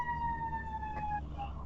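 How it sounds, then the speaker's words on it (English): Emergency sirens from fire trucks wail outside, a steady held tone with a slight pitch drop near the end, heard indoors at moderate distance. "Oh, are those the New Jersey sirens?"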